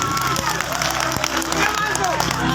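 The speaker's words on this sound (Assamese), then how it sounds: "আৰু এবাৰ হাত চাপৰি পালে ভাল লাগিব" Applause from the audience at a primary school's golden jubilee celebration: steady, continuous clapping from a crowd, with some cheering and murmuring voices mixed in.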